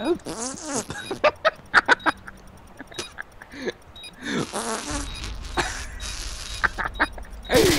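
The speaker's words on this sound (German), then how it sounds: "Furz" A string of short, blurting fart noises, loud and close, interspersed with gaming voices and effects.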